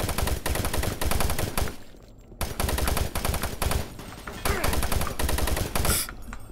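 Enemy gunfire in Doom 3 hammers in loud, rapid automatic bursts, broken by brief pauses, with little talk over the shooting.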